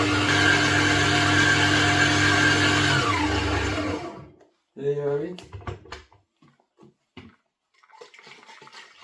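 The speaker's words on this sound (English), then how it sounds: "need to do now is just blend it, and it should be ready for you." A blender whirring loudly as it purées a natural chili sauce, a steady high-pitched motor roar that winds down after about four seconds, followed by a person talking.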